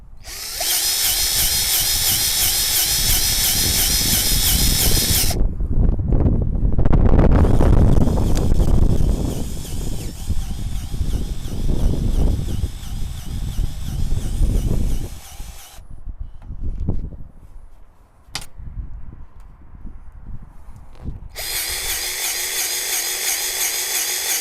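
A powered grease gun whirs loudly against a grease point on a skid loader, stops, and then runs again in short bursts amid clanks and handling noises before a final steady run.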